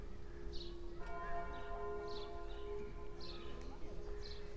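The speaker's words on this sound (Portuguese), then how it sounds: "Um pouquinho ainda o resquício do sino tocando" Church bells in Saint-Malo, France ring with a lingering, resonant hum, distant strikes recurring about once a second amid outdoor ambience.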